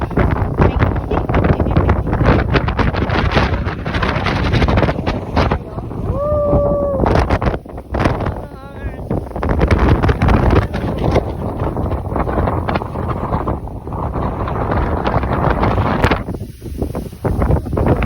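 Strong wind roars and buffets the microphone almost continuously on Mt. Batulao in Batangas, Philippines, with brief lulls and faint voices mixed in.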